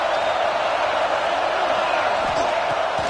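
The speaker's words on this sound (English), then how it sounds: "This crowd still bringing the intensity to open the second half." Broadband roar of a college football stadium crowd at a Clemson vs Oregon game, a steady loud wash of cheering filling the whole moment.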